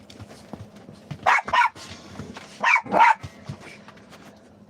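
A dog barks four times in two quick pairs, loud and close, with a quiet pause between the pairs and no talking.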